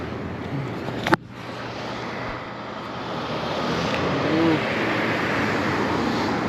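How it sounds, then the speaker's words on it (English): A private jet's engines roar in a steady, broad wash over a city district, close and loud throughout, with a brief sharp knock near the start. "See this jet right here? Private jet."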